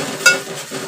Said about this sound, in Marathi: आणि ढवळायचं टाकलं चांगलं ढवळून घ्यायचं व्यवस्थित.